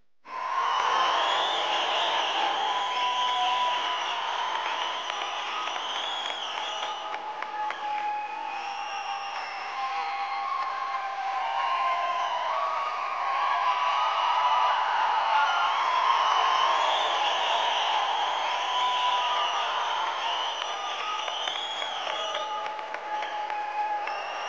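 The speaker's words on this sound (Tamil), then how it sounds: "கைத்தட்டலோட" Large concert audience at a show in Tiruppur applauding steadily, a loud continuous wash of clapping that starts abruptly and holds for the whole stretch without pause.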